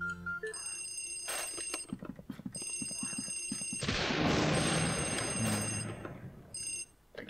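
Electronic telephone ringing in the Luigi's Mansion video game, repeated ring bursts with steady high tones over background game music and noise.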